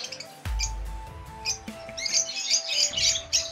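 Pet birds in a small backyard aviary give quick, high chirps and twitters in scattered bursts, growing busier toward the end. A low thump and rustling sound early on, and the birds are moderately close.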